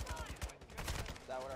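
Rapid automatic gunfire bursts in a Call of Duty Hardpoint match, loud and dense across the whole moment, with a voice briefly calling out in the middle of the shooting.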